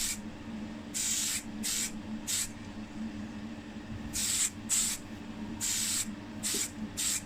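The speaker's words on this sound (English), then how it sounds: "I'll give this a good going over with the primer" Black primer hisses from a spray can onto a cleaned, degreased casting from a 1957 Austin Healey 100, in a few short bursts separated by pauses over a quiet room hum, close and moderately loud.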